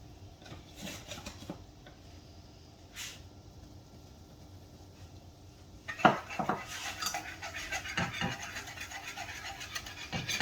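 A utensil scraping and clattering against a pan while bacon grease and flour are stirred into a gravy base, with quiet intermittent scrapes at first, then busier, louder stirring and metal clinks.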